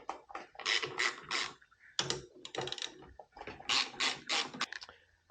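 A ratchet wrench loosens 14mm studs on a 2001 Honda XR50R, giving bursts of quick, close metallic clicking separated by short pauses.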